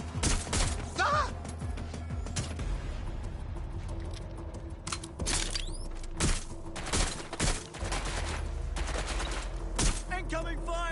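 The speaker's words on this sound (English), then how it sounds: "Incoming fire! Careful! Shot fired!" Dense gunfire in the Watch Dogs Legion video game cracks out in rapid bursts of loud shots with a few heavy impacts, while game characters shout in the background.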